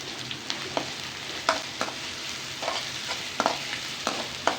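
Cabbage manchurian fries in a little oil in a pan, with a steady close sizzle broken by repeated stirring scrapes and clacks at an irregular pace.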